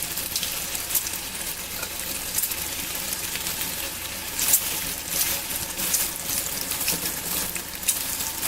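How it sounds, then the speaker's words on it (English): Bacon sizzling in a frying pan on a stovetop, a dense steady crackle and spit with occasional louder pops, close and continuous with no talking. "Look at that bacon sizzling away."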